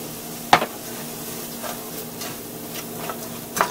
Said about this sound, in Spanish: agregamos los chiles para que se vaya cociendo ya todo